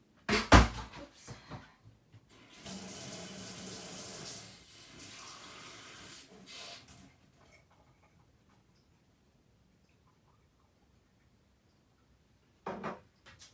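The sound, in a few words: tap running while filling a glass of water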